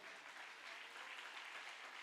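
A church congregation claps steadily during a Spanish-language sermon on grace, a dense, even wash of applause from many hands with no pauses.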